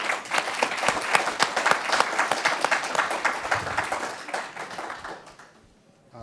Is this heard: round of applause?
yes